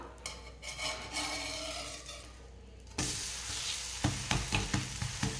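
A dosa sizzles in oil on a cast iron tawa after being flipped. A bright, steady frying hiss follows a quieter stretch, with scraping and tapping from a spatula close by.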